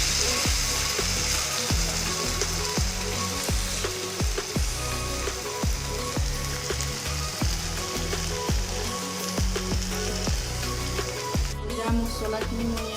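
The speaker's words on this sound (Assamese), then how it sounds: "ভাজি ল'ম আমি" Fish fries with dupor tenga leaves in a hot pan, a loud, continuous sizzle and crackle punctuated by regular clinks and scrapes of stirring, with no talk.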